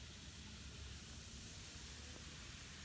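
Baking soda and vinegar react in a steady, soft fizzing hiss that holds evenly throughout, like a bubbling reaction close by, with no talking.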